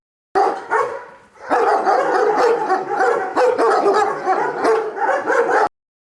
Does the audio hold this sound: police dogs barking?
yes